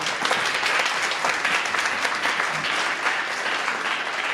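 A steady wash of dense audience applause fills a keynote hall at Norman Education Research Day 2023, marking a graduate program's 10-year anniversary; the clapping is loud and continuous throughout.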